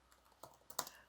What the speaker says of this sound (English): I'm typing really poorly right now